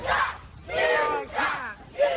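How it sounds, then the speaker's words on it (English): A wrestling show crowd jeering in displeasure, with four swelling waves of massed shouting and booing, each rising and falling in about half a second. "Crowd showing their displeasure for Tomer Shalom and Igor Sonovavich"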